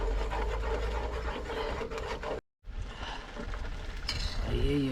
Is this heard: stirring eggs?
yes